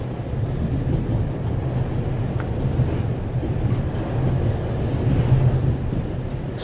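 Moving train carriage with its window open in The Raven video game, a steady loud low rumble of wheels and rushing wind with faint rhythmic clatter, no talk.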